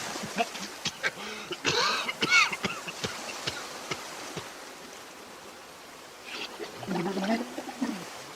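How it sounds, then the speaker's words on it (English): A series of short, sharp coughs from a whale in quick bursts, fairly close, with a few deeper rough grunting sounds near the end. "He coughs and coughs, but the grate doesn't move."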